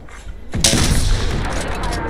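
Video game gunfire, a sudden heavy burst that breaks in about half a second in and then rolls on as a dense, loud, sustained barrage of shots with no one talking over it.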